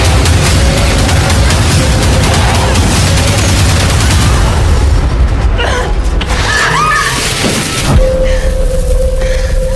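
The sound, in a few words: gunshots from a sniper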